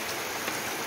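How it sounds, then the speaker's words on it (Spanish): Rain falls steadily on a day of rain, heard from a covered porch, a dense, even hiss without pause. There is no talking. "estamos grabando un poquito de lluvia"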